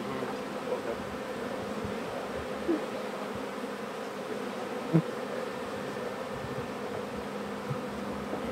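Honey bees buzzing around a beehive in cold weather, a steady low hum from many bees, faint and continuous outdoors, with no talk.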